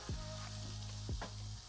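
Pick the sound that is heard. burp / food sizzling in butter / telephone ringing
food sizzling in butter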